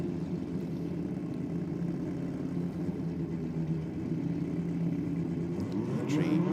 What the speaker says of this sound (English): We've got the Mazda sitting down in the burnout box at the moment.